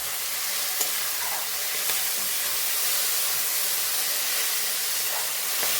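Tomatoes and onions with salt and turmeric fry in a pan for a drumstick-leaf moringa dal, making a loud, steady, close hiss of sizzling with faint stirring taps and no voices.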